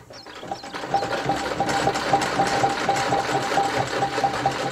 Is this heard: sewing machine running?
yes